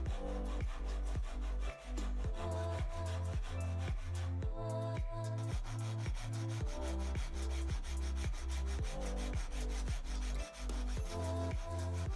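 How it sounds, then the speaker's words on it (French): A hand saw cuts a wooden tenon in steady, rhythmic back-and-forth strokes, loud and close, with a brief pause midway. "je mets un coup de scie et je finirai avec le ciseau à bois."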